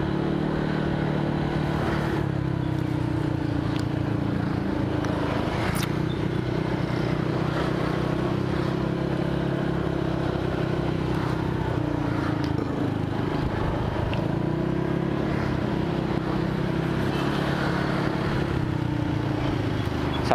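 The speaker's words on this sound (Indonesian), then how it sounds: "Sama motor kesayangan gue nih Honda Vario" A Honda Vario scooter fitted with a quiet aftermarket exhaust hums steadily while riding, its engine drone continuous and close under steady wind noise.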